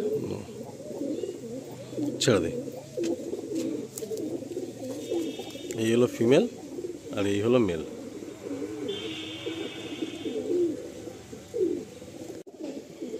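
Madrasi pigeons in a loft coo in low, repeated murmurs beneath ongoing conversation between men, with a few sharp knocks and flutters close by.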